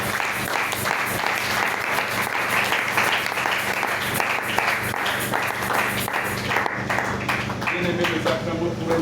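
Church congregation applauding and cheering for Jesus during a Thursday worship service, a dense, steady wash of clapping from a large crowd with voices mixed in throughout, thinning slightly near the end.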